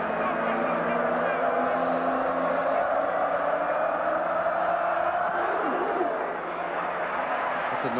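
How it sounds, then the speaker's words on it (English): A college football stadium crowd at Florida State roars in a dense, continuous wall of noise while the kicker lines up, and a commentator talks over it. "That's the noisiest the crowd gets is when he puts his foot on the ball."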